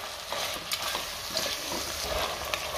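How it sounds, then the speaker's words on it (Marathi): Masoor lentils and potatoes being sautéed in a pan over a high flame give a dense, continuous sizzle with soft stirring scrapes throughout, close up. "मसूर आणि बटाटे घातल्यानंतर सुद्धा 2 मिनटं आपल्याला चांगलं परतून घ्यायचं आहे."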